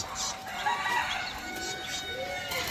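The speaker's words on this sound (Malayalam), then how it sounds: "കോഴികളാണ് ഇവിടെ കൂടുതലുള്ളത്" Chickens clucking on a poultry farm, with a rooster crowing amid repeated clucks and chatter from the flock, moderately close and fairly quiet overall.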